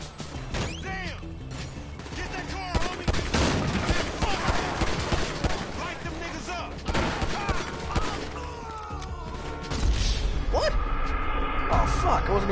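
Shootout gunfire in GTA V played in first person, bursts of rapid shots and crashing impacts, loud and close, with people talking over parts of it.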